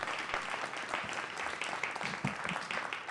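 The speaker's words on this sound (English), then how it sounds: "give her a round of applause for a wonderful representation of Oakland" Applause from the audience at an Oakland press conference, a fairly quiet, scattered round of clapping with uneven individual claps lasting about three seconds.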